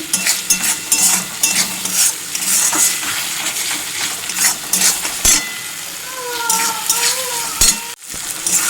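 Steady sizzling of spiced egg curry frying in oil with occasional stirring scrapes, fairly close, with no talk over it.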